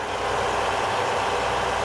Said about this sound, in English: sitting on a truck that is running.